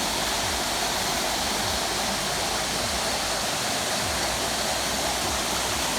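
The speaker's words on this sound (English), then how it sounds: "And this is the top of the waterfall." Waterfall at Blue Basin in Trinidad, heard from the top of the falls as a steady, loud broadband rush of falling water that holds constant without pause.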